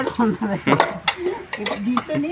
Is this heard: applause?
no